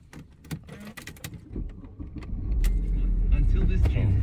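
A Mercedes-Benz E280 V6 (W211) engine cranks and fires up, settling into a loud, steady low rumble over the second half, after key jingles and clicks; a voice talks briefly early on.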